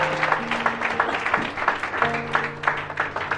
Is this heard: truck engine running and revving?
no